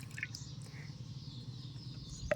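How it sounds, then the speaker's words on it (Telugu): Water poured into a container holding detergent powder and salt, mixed as an insect killer, giving a light continuous trickle with a few drippy splashes and a sharp tap at the end, with no voices. "వాటర్ పోస్తాను నేను ఇందులో."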